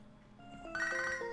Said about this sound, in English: we actually have a phone call from dear old Anthony.